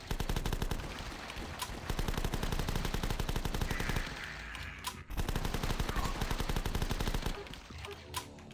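Rapid automatic gunfire rattles continuously in The Last Stand as a character empties a full magazine, dense repeated shots with a short break midway, close and fairly loud.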